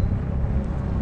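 Helicopters flying over a city skyline at night give a steady, muffled low rumble that holds constant throughout, with no distinct rotor beat standing out.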